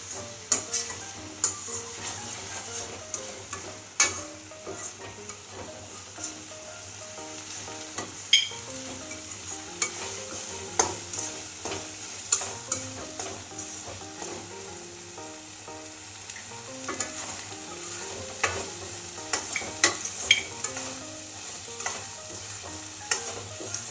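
A spoon scrapes and stirs thick carrot halwa in a pan, with soft knocks against the metal and a faint sizzle underneath.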